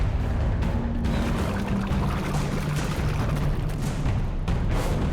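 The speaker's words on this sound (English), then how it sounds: "The delightful flushing sound." A toilet flushes in Alice: Madness Returns, a continuous loud rushing, pouring gush of water with low rumble lasting several seconds, alone without talk.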